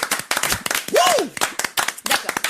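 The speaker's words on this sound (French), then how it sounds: "Est-ce que vous pouvez tous applaudir?" A studio audience claps together on request, loud sharp irregular hand claps close up, briefly broken by a short voiced whoop or vocal sound in the middle.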